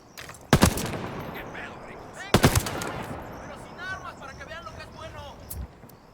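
Video game gunfire in a tier 1 guerrilla mode match, two loud bursts of rapid automatic shots close by, followed by quieter shots and voices talking.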